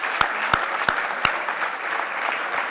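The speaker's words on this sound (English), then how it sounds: "if we could have a round of applause before we move over to the next category" A crowd applauds teachers and educators at the 2019 Golden Apple Awards ceremony, a steady wash of clapping with a few sharp, close individual claps cracking out above it.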